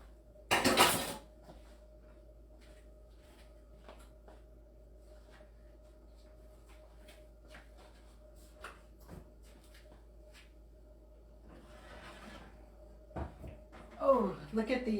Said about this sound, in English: now I'm going to remove the enchiladas from the oven